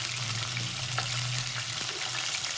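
Boneless chicken pieces fry with salt in a pan for a butter handi curry, making a continuous close, even hiss with a faint low hum underneath and no voices.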